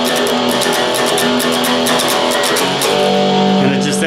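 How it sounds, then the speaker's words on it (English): Electric guitar riff played with picked notes and no palm muting, ringing open and sustained with a bright, dense, loud tone and quick repeated pick attacks, with no talking. "if you were to do it without the palm muting, it'd sound like this"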